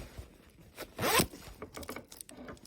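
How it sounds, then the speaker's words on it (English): A zipper is drawn closed on a sewn boxy fabric bag, one quick loud pull near the middle with softer scratchy tugs before and after, heard alone and close. "Let's just zip it up."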